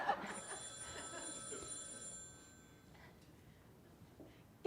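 A telephone bell rings in a live improv comedy show, a ringing burst of metallic tones for about two seconds, then fading into quiet room noise with a faint voice.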